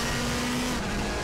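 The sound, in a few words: race car driving in RaceRoom Racing Experience video game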